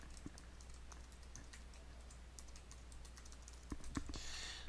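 Typing on a computer keyboard: faint, scattered, close keystroke clicks over quiet room noise, with a small cluster of taps near the end.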